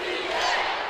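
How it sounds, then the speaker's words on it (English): A women's basketball arena crowd at a Georgia game shouts together in a loud, sustained roar that fills the whole second. "As the crowd shouts"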